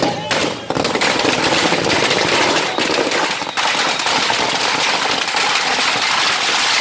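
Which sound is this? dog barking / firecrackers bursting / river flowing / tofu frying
firecrackers bursting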